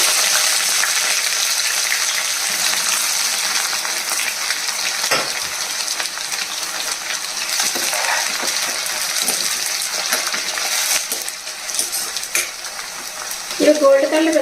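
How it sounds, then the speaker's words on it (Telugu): Chopped onions sizzle steadily in a hot pan with cinnamon for a Konaseema-style prawn pulao, with scraping spoon strokes and a few metallic clinks throughout, close and continuous without any voices. "లైట్గా వేగించారండి మాడిపోకుండా ఇలా వేగిన తర్వాత మనం కట్ చేసి పెట్టుకున్న ఆనియన్ వేసేసుకోవాలి"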